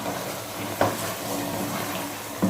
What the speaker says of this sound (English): If not, use your ordinary water like I'm going to be doing now.